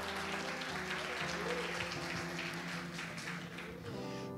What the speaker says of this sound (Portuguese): isso aqui valia um aplauso para Jesus, não valia não?